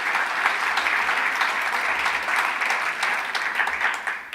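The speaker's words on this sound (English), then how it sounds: "I'd like to give them a big round of applause for just their investment and courage" An audience at the 2017 Pinnacle Awards Gala gives loud, steady applause, with close, continuous clapping filling the whole moment without letup.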